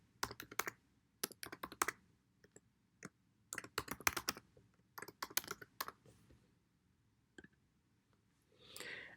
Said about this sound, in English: I'm going to type my login information based on Unify.